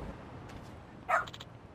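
A dog in the video game Lost Judgment gives one short, fairly soft bark over a low game background hum.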